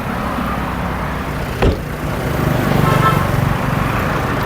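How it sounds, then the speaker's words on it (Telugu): A 2015–16 Ford EcoSport Trend Plus diesel engine idling, a loud, steady low rumble with a faint rhythmic chug, briefly broken by a short clunk, and no one talking over it. "ఇంజన్ కూడా చాలా సైలెంట్ ఉంది"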